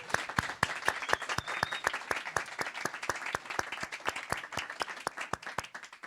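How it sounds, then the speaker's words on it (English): A conference audience at lightning talks applauds together, a dense, steady patter of many hands clapping at close range that carries on throughout with no voices. "applause."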